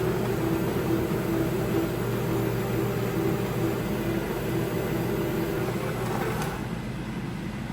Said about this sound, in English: While the zucchini keeps cooking in the air fryer